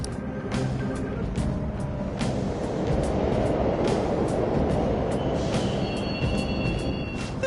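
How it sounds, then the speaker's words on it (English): Trains in a video game rumble steadily past a platform, with metallic clanks, squealing wheels and rattling cars building to a loud, close roar. "The trains are totally running!"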